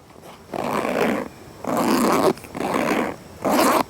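A zipper on a bow hunting chest rig's rangefinder bag is pulled open and shut in four long, loud, raspy strokes, each about a second, separated by short pauses, close up with no voices.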